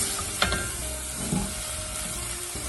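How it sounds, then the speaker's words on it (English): Grated garlic and onions sweat in butter in a pot for clam chowder, making a quiet, even sizzle with a couple of soft stirring knocks, and no one talks. "I'm gonna let that sweat a little bit in that butter"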